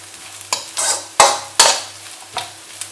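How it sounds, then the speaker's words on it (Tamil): Shredded cabbage and carrot stir-fried in a pan for chicken rice, with sharp scraping strokes of a spatula at irregular intervals over a soft sizzle and a low steady hum. "இப்போ வந்து இதில் கேபேஜ், கேரட் எல்லாம் போட்டுக்கலாம். நல்லா ஃப்ரை ஆகணும்."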